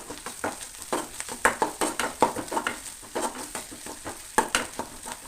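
Ingredients for a tender jackfruit curry frying in a pan, a rhythmic series of close scraping stirring strokes over a continuous sizzle, with no voices.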